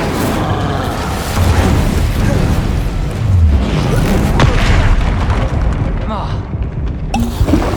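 The Incendio fire spell goes off in the Hogwarts Legacy video game, a booming fiery burst amid continuous game noise and rumble, with a voice speaking over it.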